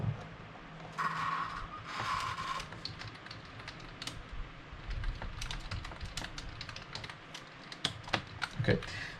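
Keyboard typing while a note is written down, quick irregular clicks and taps running throughout, close and fairly quiet over a low room hum, with a couple of brief tonal blips early on.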